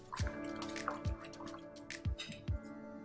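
Five-grain batter with Eno added is stirred by hand, producing wet squelching drops and slaps at a slow, irregular rhythm, close and moderately loud, with no talk.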